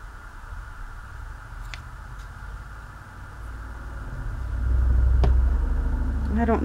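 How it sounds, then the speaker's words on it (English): A car drives past outdoors, a low rumble that swells and grows louder toward the end, with a brief sharp click partway through. "I don't know who's driving through, but they're being kind of rude."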